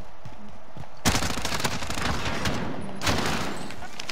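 Dense, rapid gunfire bursts in Call of Duty: Modern Warfare, loud and close, two sustained volleys separated by a brief lull, sounding more like continuous fire than isolated single shots from a golden Renetti pistol.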